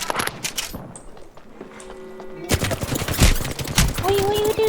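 Rapid bursts of automatic gunfire in the video game Apex Legends, sharp repeated shots that stop for a moment and then resume densely, with metallic clangs and a rising tone near the end.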